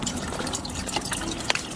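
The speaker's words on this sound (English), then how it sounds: "First, let's put some water inside this." Water poured from a bottle into a motorbike, a soft, steady trickling and splashing with a few sharper drips, faint against background noise.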